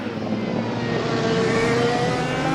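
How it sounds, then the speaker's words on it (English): A 1990s Toyota Celica rally car rumbles past on a tarmac circuit, its engine a steady, dense drone that holds loud throughout and rises slightly in pitch near the end. "Yep, that rumbly sound. It's the 90s Rally Boy."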